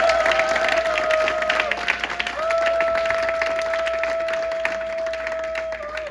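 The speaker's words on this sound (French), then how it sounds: "Et est-ce qu'on peut les applaudir?" Wedding guests applaud together at a church ceremony, a dense, steady clatter of many hands lasting throughout, with sustained tones from music or an organ running underneath.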